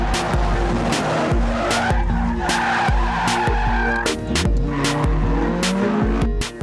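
Race cars skid through high-speed circuit racing, with loud, continuous engine roar and repeated sharp tire squeals and skids up close, running nearly throughout without pause.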